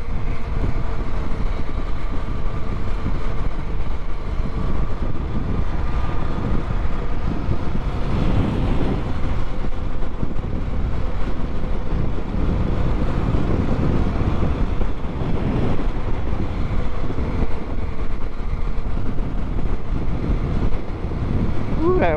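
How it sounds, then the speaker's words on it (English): Wind blowing in off a bay rumbles in a steady, loud, broadband roar that fills the whole stretch, with no speech and only slight swells in strength. "Wind is picking up, coming from off of the bay."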